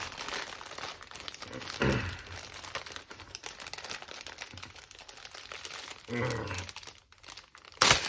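The plastic parts bag from a Tamiya TB-03 VDS drift car kit crinkles and rustles nearby, with sharper crackling bursts as it is torn and pulled open.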